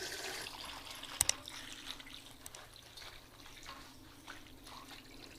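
Water is poured over curry leaves in a vessel to wash off soil, giving faint trickling and splashing with a couple of sharp clinks early on, then quieter dribbles.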